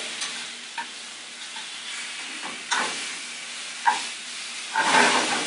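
Shrimp and shallot frying in a pan, a steady hissing sizzle broken by several sharp bursts of spatter and stirring, louder toward the end, with no one speaking.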